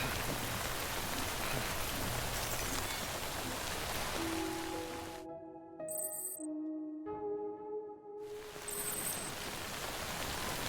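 Steady broadband rain hiss pours for several seconds in the video game Death Stranding: Director's Cut, then drops out to tonal game chimes and notes before the downpour returns.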